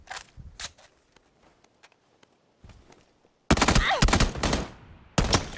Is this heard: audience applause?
no